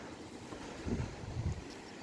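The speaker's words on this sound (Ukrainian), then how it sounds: "у нас сьогодні такий вітер, що нічого нормально записувати неможливо" Low rumbling wind buffeting a microphone outdoors by a blossoming apple tree, with gusty bursts swelling around the middle, steady and close, no voices.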